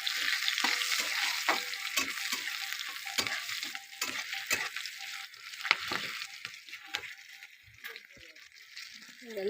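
Radhuni seeds, chili and crushed garlic hiss and sizzle in hot oil in a pan, a steady loud frying crackle with repeated stirring scrapes and spatula knocks throughout, no voice over it.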